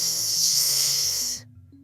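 A snoring sound effect in a German audiobook fairy tale about the devil: one long, raspy inhaled snore with a hissing edge and low guttural rumble, cutting off sharply near the end while a low musical tone continues.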